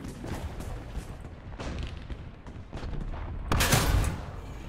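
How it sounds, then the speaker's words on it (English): Tank cannon fire in a tank combat video game, shells fired at an already destroyed tank, booming blasts rolling under a noisy battle bed with one louder shot near the end. "You do know you're shooting at a dead tank."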